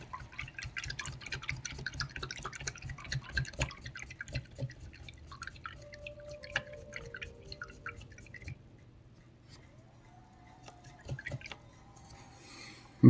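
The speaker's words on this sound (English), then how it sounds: "So let me just make sure my brush is washed off thoroughly." A paintbrush is swished and tapped in a water jar, close wet drips and splashes for about eight seconds, then quieter dripping trickles and a final clunk.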